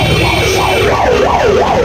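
An ambulance siren on a road, its wailing tone sweeping up and down several times in a fast repeating cycle, loud and close over traffic rumble.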